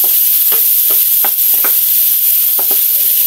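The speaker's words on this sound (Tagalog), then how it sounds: "Ipo-fry ko muna yung ating pork" Pork frying in oil in a pan that was just used to fry fish, a loud, dense, steady sizzle up close, broken by a few light scrapes of stirring.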